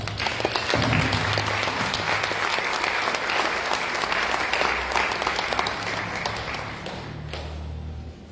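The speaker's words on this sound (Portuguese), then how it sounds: "Dá uma salva de palmas" A church congregation gives a dense, sustained round of applause that fills the space with continuous loud clapping over a low hum, thinning and fading out toward the end.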